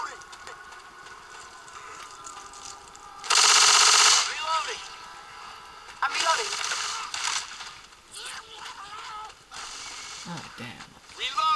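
M16 rifle fire in Left 4 Dead 2, loud rapid automatic bursts alternating with shorter cracks over a background of game noise, with someone talking between and over the shots.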